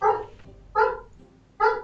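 Three short, loud dog barks come close up and evenly spaced, each separated by a brief quiet gap, with no voices over them.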